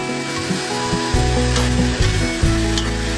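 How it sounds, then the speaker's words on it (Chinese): Chicken stir-fried in caramelized sugar in a wok, a loud close sizzle with rhythmic scraping and knocking of a spatula against the pan and a low humming tone underneath, with no talking. "然后鸡肉就可以直接下锅炒了哈。"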